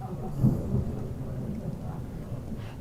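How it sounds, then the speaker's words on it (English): Thunder rumbles in Witcher 3, a low, rolling boom that swells early and fades into a soft rainy background, fairly distant and without talking. "Well, I guess it's thundering here too."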